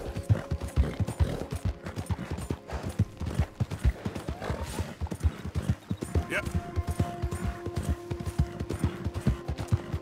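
A horse in Red Dead Redemption 2 gallops with steady, rapid hoofbeats close by, a brief whinny in the middle and faint mechanical creaks, while someone talks over it.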